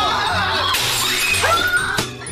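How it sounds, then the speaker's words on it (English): Plates fall and shatter in a creepy animation, giving sharp crashing breaks with ringing shards over a low droning background, several impacts in quick succession. "things like plates fall down and shatter"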